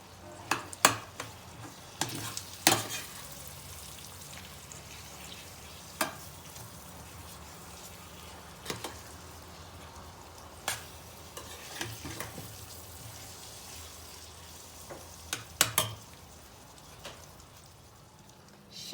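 Hot pepper paste is stirred in a frying pan as a steady, soft sizzle, with scattered sharp utensil clicks and scrapes against the pan, close by and with no talk.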